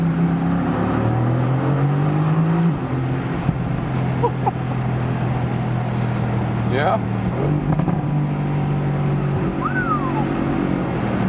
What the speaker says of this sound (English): So for people still wanting that pure V8 lowering sound, that is what this car is really doing very well.